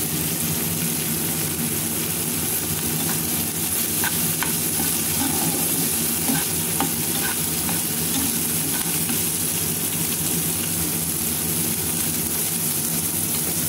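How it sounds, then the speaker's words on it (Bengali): Onions and dried red chilies frying on a flat griddle pan give a steady, close sizzle with light crackles and the occasional scrape of stirring, heard alone from start to finish. "এই তাওয়ায় আমি শুকনো মরিচ ভেজে নিচ্ছি।"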